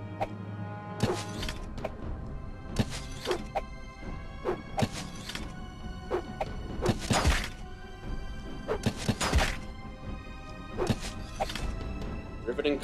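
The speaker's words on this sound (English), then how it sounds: "I just wanna shoot him with the crossbow" Crossbow combat against a rat in The Elder Scrolls III: Morrowind, with repeated sharp bolt impacts and thwacks at irregular intervals. Someone talks throughout.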